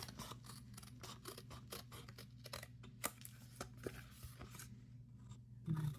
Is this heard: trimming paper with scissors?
yes